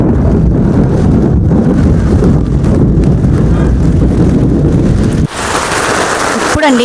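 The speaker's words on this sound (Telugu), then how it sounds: "ఇప్పుడైతే చూడండి ఎంత వస్తుందో వర్షము, బాగా స్పీడ్గా వచ్చేస్తుంది." Heavy rain pours down fast during a thunderstorm, a loud, dense, steady roar close by that continues for several seconds before abruptly thinning.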